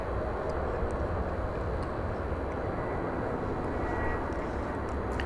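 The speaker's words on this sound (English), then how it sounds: "we'll follow along with this wide body as it approaches the takeoff line on runway 18 left." Wide-body airliner approaching the takeoff line on runway 18 left at Dallas Fort Worth International Airport: a steady, loud, broad jet-engine roar, unbroken throughout, with no talking.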